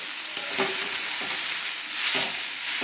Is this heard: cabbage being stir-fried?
yes